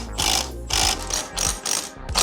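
A ratchet tightening the front pulley nut on a scooter gives repeated bursts of rapid metallic clicking, four or five strokes in a steady back-and-forth rhythm, close and loud, with no talking.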